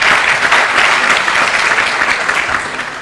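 An audience claps loudly and continuously at a tenth-anniversary celebration of a faculty of medicine, the applause dense and even before tapering slightly toward the end.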